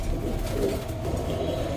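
Kaldom pigeons cooing at a pigeon farm, a continuous low, throaty murmur heard close and steady throughout.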